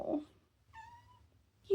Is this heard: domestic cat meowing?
yes